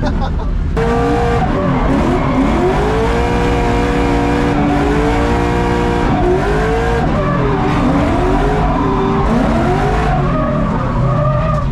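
A BMW E90 drifts with loud, sustained tire squeals rising and falling in repeated arcs over a roaring engine, close and continuous.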